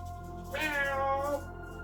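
A single clear cat meow, drawn out for about a second over a steady low background hum.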